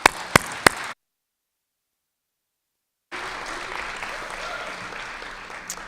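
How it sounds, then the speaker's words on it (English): Brief applause from a graduation ceremony audience in an auditorium, a few sharp claps then a gap of silence before a steady, moderately loud wash of clapping resumes. "So I wanted to thank them and give a round of applause"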